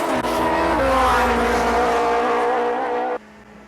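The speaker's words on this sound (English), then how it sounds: "this is typical of the sort of bikes we've seen lots of today going up and down the strip here" A top fuel drag bike at Santa Pod Raceway roars loud and close down the quarter-mile strip, a sustained howling engine note that cuts off sharply near the end, leaving quieter background noise.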